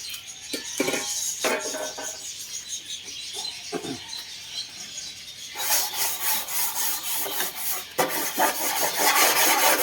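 Hand sanding of wood with 120-grit sandpaper on a plywood shoe rack, steady close rasping strokes in a loose back-and-forth rhythm that grows louder and denser in the second half.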